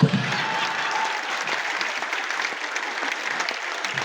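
An audience at a live comedy show in Dhanbad applauds in a steady, dense wash of clapping that holds from start to finish.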